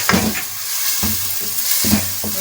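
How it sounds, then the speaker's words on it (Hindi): Minced meat with ginger and garlic frying in a pan, a steady close sizzle broken by rhythmic scraping strokes of a spoon stirring about every half second, with no talk. "कीमा डाल के मैंने कीमे को हल्का सा भून लिया है।"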